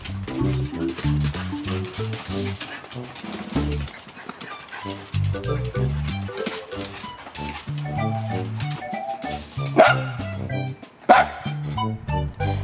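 Several dogs bark repeatedly and excitedly close by, overlapping yaps and woofs in a steady stream with a few sharper yelps.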